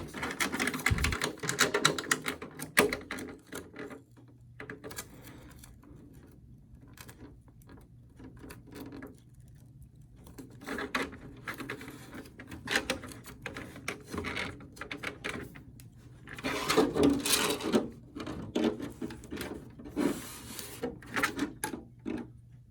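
Masking tape being pressed and rubbed onto a Tamiya TT-02T Sand Shaker RC car body, with intermittent crinkling, tearing and smoothing sounds close up, in bursts separated by quieter pauses.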